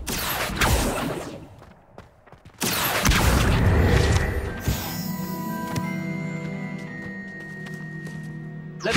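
An Accio summoning spell in Hogwarts Legacy lets out a sharp whooshing burst, followed by a loud, sustained shimmering magical hum with ringing tonal layers that lasts several seconds.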